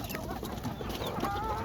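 Desi native chickens on a farm cluck in short, soft, overlapping bursts, fairly quiet and continuous against a faint background, with no talk.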